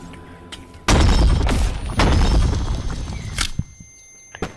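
Pistol gunshots in the Animal Company video game, three sharp loud bangs spaced about a second apart, each with a short decaying tail, followed by smaller clicks and thuds.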